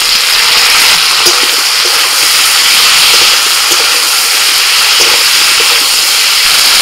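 Ground ginger and green chilli paste with cumin, black pepper and dried red chilli paste go into a hot pan for a phali fish curry, giving a loud, steady, close hiss that fills the whole stretch.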